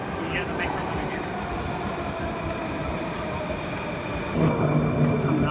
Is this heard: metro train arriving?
yes